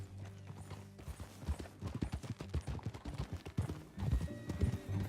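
Horse hooves clip-clop steadily at a riding pace in Red Dead Redemption 2, close and loud, with a brief whinny and faint background game sounds.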